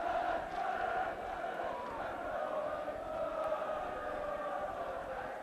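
A football crowd at a 1980 match sings a chant together, a steady, distant roar of massed voices that runs the whole time without letup.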